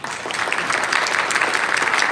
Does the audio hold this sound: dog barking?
no